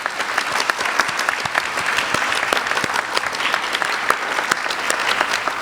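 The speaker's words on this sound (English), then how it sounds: "So I'm also going to ask for a round of applause for you," Students and guests at a middle school closing ceremony break into loud, sustained applause, dense overlapping claps with sharper individual slaps standing out, and no talking over it.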